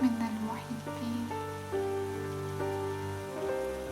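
Steady rain falls as a soft, even hiss, with gentle slow music playing over it throughout.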